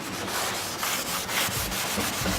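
A sanding pad scrubs back and forth across a wooden dining table, lifting old stain and sealer, in a steady, close rubbing rhythm.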